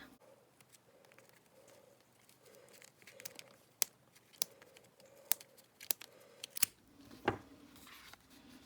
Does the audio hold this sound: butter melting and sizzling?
no